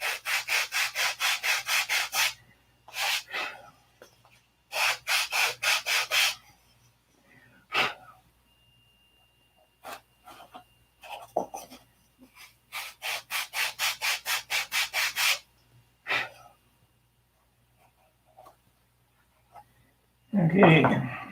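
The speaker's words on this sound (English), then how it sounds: "We'll sand until it fits perfect." Wood being hand-sanded to a snug fit: repeated bursts of rapid back-and-forth rubbing strokes, close and fairly loud, separated by pauses with a few scattered knocks and a brief voice at the end.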